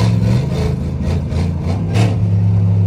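A Dodge Hellcat engine and exhaust give a loud, steady low rumble from close by. It swells slightly about two-thirds of the way through, and no one speaks.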